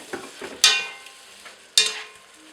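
Drained broccoli tumbles into a pan of warm tomato puttanesca sauce with canned fish and olives, two sharp wet splats followed by soft stirring and a low simmer, close and free of talk.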